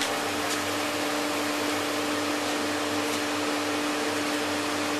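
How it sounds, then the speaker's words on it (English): A dust extractor runs in a woodworking shop, a loud, steady whooshing roar with a constant tonal whine, unbroken and alone throughout. "turn my dust extractor back on"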